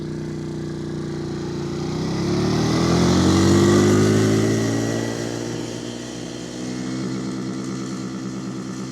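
Two CFMoto CForce EV110 electric youth ATVs drag race, their motors whining as they pass close by, swelling to a loud peak and then fading away, with no talk.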